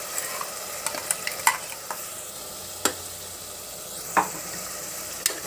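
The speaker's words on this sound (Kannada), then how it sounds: "ಈಗ ಅದು ಹಸಿ ವಾಸನೆ ಹೋಗೋವರೆಗೂ ಫ್ರೈ ಮಾಡ್ಕೊತಾರೆ ಚೆನ್ನಾಗಿ, ಎಣ್ಣೆ ಬಿಡೋ ತನಕ" Ground masala paste with cinnamon, cloves and green chillies fries in oil for pulao, a low steady sizzle punctuated by several sharp spoon clicks and scrapes against the pan.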